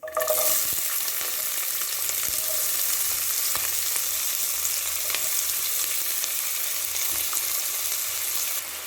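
Onions frying in hot oil with cinnamon, cloves, cardamom and bay leaf for channa kurma, a steady close hiss and crackle of sizzling with occasional stirring, no talk.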